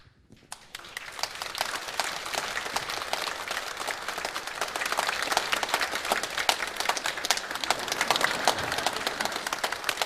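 A church congregation gives a long, steady round of applause as gifts are presented at a pastor's installation service, the clapping starting abruptly and continuing densely throughout.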